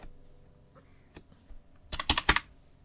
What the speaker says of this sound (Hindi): चलिए, हम अपने टाइटल बार पे लिखते हैं